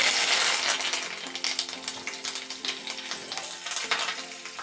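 A tempering of curry leaves and asafoetida fries hard in a pan for a chutney, giving a close, steady, crackling sizzle with a few stirring scrapes and no talk.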